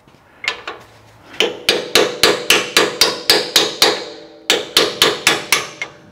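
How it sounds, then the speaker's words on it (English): A hammer drives a cold chisel to knock metal out of a steel vehicle frame during a GX470 bumper installation. A few sharp ringing strikes come first, then a rapid run of about ten evenly spaced blows, a pause, and six more. "Just a cold chisel and a hammer."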